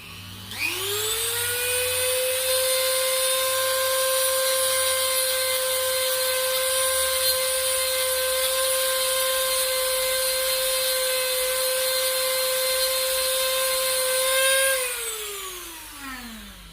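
A rotary tool fitted with a sanding bit smooths a 3D printed Perses mod piece, a steady high-pitched motor whine that spins up, holds evenly for about fourteen seconds close by, then winds down.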